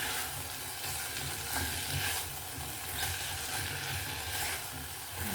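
Potato is stirred in a pan for a homemade pumpkin and potato baby puree: a continuous soft frying sizzle with scraping, shuffling stir noises, moderately close and steady throughout, with no talking.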